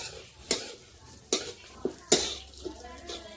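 Dry fruits roasting in a pan are stirred in short scraping strokes, four or five distinct close scrapes spaced about a second apart over a light background sizzle.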